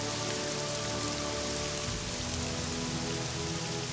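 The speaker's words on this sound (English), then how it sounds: "Wait, let me lower the sound of the rain." Steady, dense rain hisses and patters continuously in the video game Morrowind, a loud unbroken wash with no voices.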